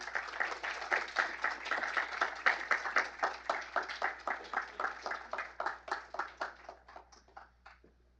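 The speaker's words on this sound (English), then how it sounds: "Let's give another round of applause for Dr." Audience applause for a speaker at a lecture on Frederick Douglass, individual claps clearly rhythmic and fairly close, fading out as the clapping thins to a few last hands.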